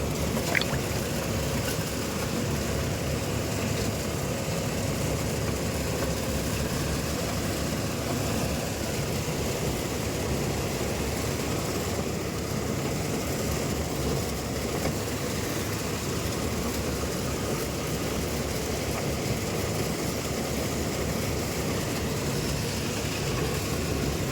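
A steady, loud engine drone rumbles continuously with no pauses, a constant mechanical hum close by and no voices.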